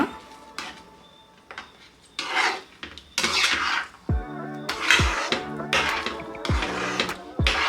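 A spoon scrapes and clinks against a pan while turmeric water is stirred into rava kesaribath, in a series of short rasping strokes with sharp metallic knocks between them, close and fairly quiet.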